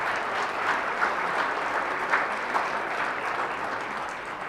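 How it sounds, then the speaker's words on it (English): Sustained audience applause at a school district board of trustees meeting, steady dense clapping throughout with a few louder claps standing out, fairly close and even in level. "Let's have one more round of applause for that amazing presentation and poem."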